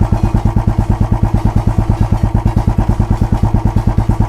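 A Royal Enfield Bullet 350 idles alone at close range, its exhaust thumping in a steady, even single-cylinder beat throughout.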